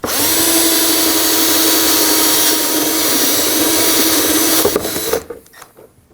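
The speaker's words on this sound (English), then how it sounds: "And we can do the same with the other 3." Power drill bores out rivets holding a front license plate bracket on a 2015-2022 Chevrolet Colorado, a loud steady whine running about five seconds before cutting off and trailing into quiet clicks.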